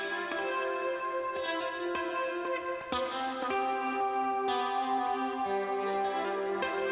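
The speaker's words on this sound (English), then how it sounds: "this ambient guitar. And all this is the Tone King once again with a clean setting with quite a bit of reverb." Ambient clean electric guitar through a Tone King amp with heavy reverb and tape echo, sustained chiming notes and chords ringing out and overlapping in long washes, steady and alone without voices.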